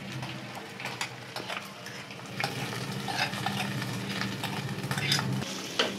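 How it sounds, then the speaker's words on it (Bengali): Rice being stirred in a pot for mango pulao, with a run of scraping stir strokes and light clinks over a gentle sizzle. "আমি চালটা আস্তে আস্তে ঢেলে দেব।"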